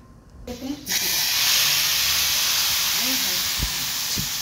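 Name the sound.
tempering sizzling as it is poured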